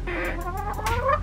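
Backyard chickens clucking close by, a few short rising and falling calls in quick succession over a low background hum.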